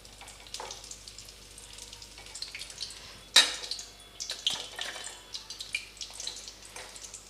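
Chicken drumsticks frying in hot oil: a quiet, steady hiss of bubbling oil with a sudden loud splatter and clatter midway, then scattered crackles and pops, close by with no voices.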